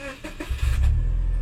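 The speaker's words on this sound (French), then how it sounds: "Elle ronronne quand même un petit peu, hein, la voiture." A Subaru Legacy engine rumbles low and close, rising in strength after a moment and holding a steady running hum.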